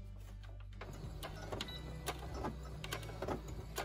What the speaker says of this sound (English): I'm going to put down the needle, and remember to backstitch at the beginning